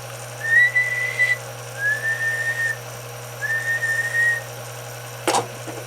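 Three drawn-out whistled tones into a radio microphone on a Palomar 300A linear amplifier bench, each about a second long with short gaps, set against a steady low hum and ending with a brief click.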